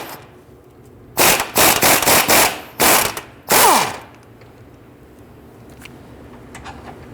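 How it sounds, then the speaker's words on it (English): Impact wrench fitted with a swivel socket loosening a 19mm bolt on an Infiniti G37 front lower control arm, several loud, close rattling bursts in quick succession followed by one longer burst that winds down. "Using a swivel head socket and our impact, we want to loosen and remove this"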